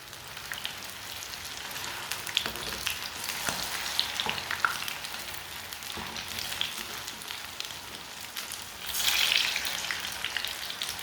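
Gola kebabs fry in a little oil in a pan, giving a soft, steady sizzle and crackle with occasional louder pops, close and fairly quiet, no talking.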